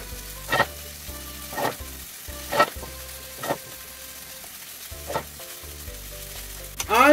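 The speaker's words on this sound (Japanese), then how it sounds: "このおネギをしっかりと絡めるようにしながら、全体的に混ぜながら火を通していくだけです" Chicken gizzards and green onion are stir-fried over low heat in a pan, giving a soft steady sizzle broken by periodic louder scraping clacks of a utensil against the pan, close and without talk.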